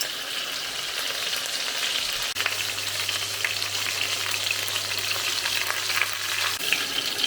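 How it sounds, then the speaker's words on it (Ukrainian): Steady sizzling of zucchini frying in a pan, a dense crackling hiss that carries on without pause. "Викладаємо кабачки на тарілку, вони, бачите, злегка підрумянилися та смажимо слідуючу партію"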